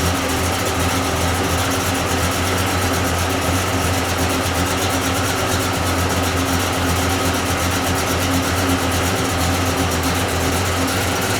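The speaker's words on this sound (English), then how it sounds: "That's with the engine running, with the electric fans on" A Squarebody truck engine idles steadily with its electric cooling fans running, a constant low drone and whir, moderately loud and unchanging, with no speech.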